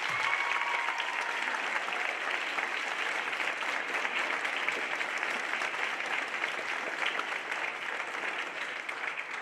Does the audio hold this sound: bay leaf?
no